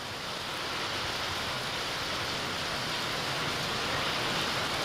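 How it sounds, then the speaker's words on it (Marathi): Steady unseasonal rain falling in Pune, a continuous hissing wash of even loudness with no voices. "अंदाजानुसार अवकाळी पावसाची हजेरी बघायला मिळाली"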